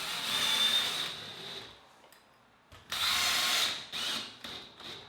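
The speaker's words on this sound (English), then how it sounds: "I do like installing a bit more screws" A power drill drives screws into wainscoting panels at a factory square-edge butt seam, with two whirring bursts separated by a quiet pause and then short, clipped spins as each screw seats.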